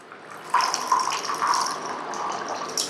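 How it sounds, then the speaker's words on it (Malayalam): Plain water is poured from above into a glass already holding ice, a steady close splashing pour lasting a couple of seconds, with faint clinks as the stream settles. "നമ്മൾ പച്ചവെള്ളം ഒരു 60 ml ഒഴിക്കുവാണ്."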